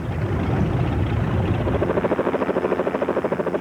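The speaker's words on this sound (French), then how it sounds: "et quelques nouveautés comme cet hélicoptère que même les pilotes virtuels les plus expérimentés auront du mal à maîtriser" Helicopter in a 1997 flight simulator video game, a loud continuous rotor and engine drone that settles into a rapid, even chopping pulse partway through, with no talk.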